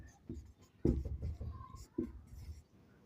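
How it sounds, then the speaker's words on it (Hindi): An equation being written by hand on paper with a pen, soft close scratching strokes in short bursts, quiet, with faint talking in the background. "अब लिखते हैं समीकरण"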